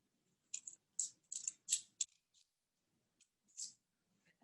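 Scissors snipping along drawn lines on paper, a quick run of short crisp cuts, then a pause and one or two more snips, close and quiet.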